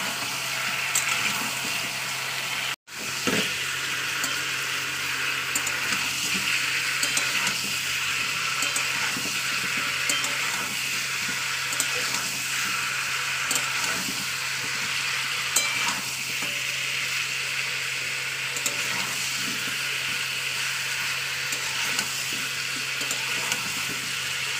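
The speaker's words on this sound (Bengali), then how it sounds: "তো আমি এর উপরে এবার দিয়ে দেবো মাংসের টুকরোগুলোকে, দিয়ে এটাকেও আবার আমি ভাজা ভাজা করে নিতে হবে।" Chicken pieces fry steadily in a pan for a chicken and potato curry, a dense continuous sizzle with scraping stir strokes, broken by one brief drop near the start, no talk.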